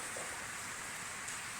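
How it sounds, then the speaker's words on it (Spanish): Heavy rain falling in Huancaya makes a dense, steady hiss that stays constant and close for a short stretch, with no voices. "Pero esto es verdadera lluvia."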